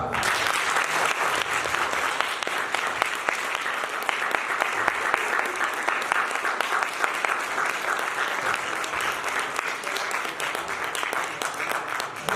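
A theatre audience applauds a young performer after a stage drama, dense sustained clapping from a crowd that runs loud and steady throughout with no pause.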